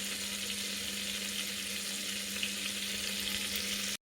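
Butter melting in a pan for a mushroom biryani gives a soft, even sizzle and hiss that holds steady throughout, close and fairly quiet, with a faint low hum beneath and no talk.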